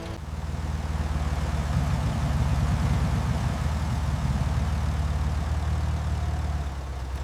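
A restored 1937 Austin Seven Ruby runs steadily with a low, continuous engine drone and exhaust pulse, close and fairly loud throughout with no talking.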